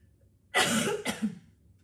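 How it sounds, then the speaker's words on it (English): A person coughs twice in quick succession, close and clear, followed by a brief breathy exhale. "I'm going to cough again, forgive me. Better to cough now."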